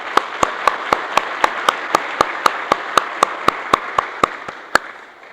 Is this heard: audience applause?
yes